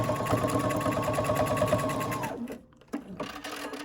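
Domestic sewing machine stitching a Kimberbell Cuties quilting project, running steadily at close range for about two seconds, then stopping, followed by brief handling clicks and fabric rustle.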